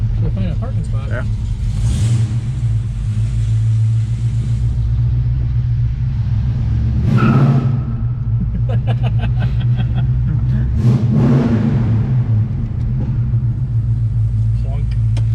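A car cruising slowly around a drag racing event looking for a parking spot, its low engine rumble steady with a few brief revs, while people talk inside throughout.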